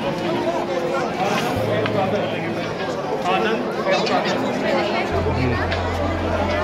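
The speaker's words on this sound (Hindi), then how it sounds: "गजब भीड़ है भाई, बहुत ज़्यादा भीड़ है भाई, बहुत ज़्यादा, बहुत लोग हैं यहाँ पे।" Dense babble from a large crowd of pilgrims at Vaishno Devi, many overlapping voices close and far in a continuous hubbub, with a low droning hum rising near the end.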